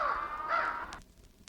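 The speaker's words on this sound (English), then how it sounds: "The birds are flying over it." Crows caw harshly over a polluted brown pond, two or three close, loud calls in quick succession before the sound drops to quiet.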